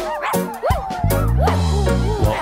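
A voice imitates a dog barking and yipping in a children's animal-sounds song, with a run of short, high barks and whiny yelps, close and fairly loud.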